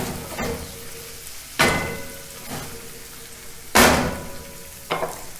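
Paneer frying in a pan crackles under a steady sizzle, broken by several loud, close scraping stirs spaced a second or two apart, each swelling then fading back into the frying hiss.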